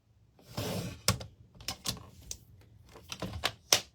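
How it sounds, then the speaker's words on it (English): Photos being cut down to size for a scrapbook layout, a series of sharp snips and clicks from a paper cutter or scissors, close and distinct, spaced irregularly with handling rustle between. "So I need to cut my photos down about there."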